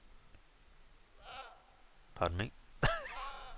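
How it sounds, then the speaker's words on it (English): Sheep bleat in the Scum survival video game, two short wavering calls close together near the end, after someone briefly speaks. "lamb, sheep, something going on around the place"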